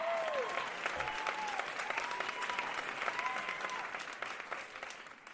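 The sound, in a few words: applause for a guest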